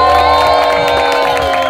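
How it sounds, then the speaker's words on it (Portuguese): Party guests at a birthday celebration cheer and clap right after the birthday song, a loud, dense crowd sound that holds steady through the short moment. "Para a menina Rosário, uma salva de palmas"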